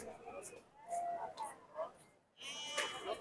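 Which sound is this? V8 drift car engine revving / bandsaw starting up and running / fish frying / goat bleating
goat bleating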